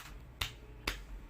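Two sharp, isolated hand claps sound about half a second apart in a quiet indoor space, crisp and close, with no talking between them.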